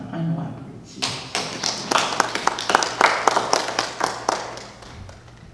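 A church congregation claps together to welcome the preacher at a Sunday service. The claps come as a burst of uneven, fairly close sharp strikes that build and then thin out, with no voices over them.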